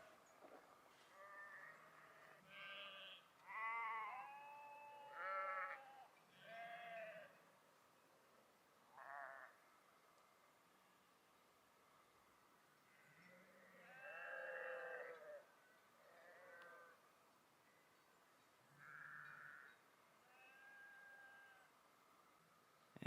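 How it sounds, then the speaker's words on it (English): A flock of about 100 sheep roams past a campsite in a grove of trees, with scattered bleats from several animals, some close and some farther off, rising and falling over quiet surroundings. "there's about 100 head of sheep that are roaming past right now"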